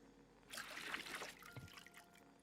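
Water pours into a brewing pot in a beer brewing simulator game, a short splashing trickle that rises, peaks and tapers off within about two seconds, faint and alone.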